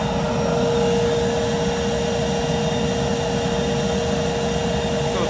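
A large homemade foundry furnace burner roars steadily as the furnace heats up, a loud, continuous broadband rush with a constant tonal hum running through it and no break.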